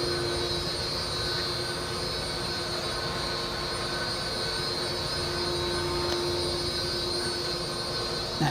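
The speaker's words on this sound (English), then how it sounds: "That sound you hear is just one of the fans blowing or circulating in here." A steady, loud mechanical whoosh of large fans blowing, a constant roar with a faint hum running underneath and no pauses.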